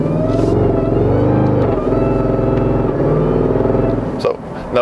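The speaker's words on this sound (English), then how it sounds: "Now we are driving in a fixed gear, it's gear number 6 or 7 right now, and when I'm accelerating, it holds that gear" Jeep Grand Cherokee Trackhawk accelerating while holding a fixed high gear, sixth or seventh, giving a loud, steady engine drone with layered harmonics that stays constant for several seconds before easing off briefly near the end.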